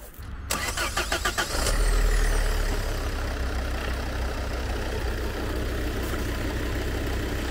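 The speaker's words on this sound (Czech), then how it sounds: "Nastartuj mi to." A used car's engine cranks briefly, catches, and settles into a steady, even idle, recorded close up with no talking.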